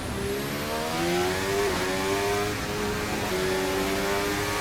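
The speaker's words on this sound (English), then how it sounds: "And accelerate now flat out until the line." A 2026 Formula 1 car engine in a racing video game, a loud continuous high-pitched whine climbing steadily in pitch as it accelerates flat out, with brief dips at gear changes and no talking.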